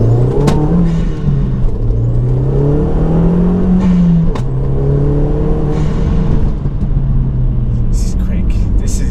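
Audi S3 8L with a 225 hp BAM engine tuned to 285 bhp accelerating hard, engine note rising through gears from inside the cabin with a brief dip at a shift, while someone talks over it.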